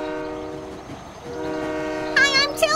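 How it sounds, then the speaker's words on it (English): A cartoon circus train locomotive pulls in with a rumbling roll, then sounds a loud, wavering whistle toward the end. "Larry Locomotive! A circus train."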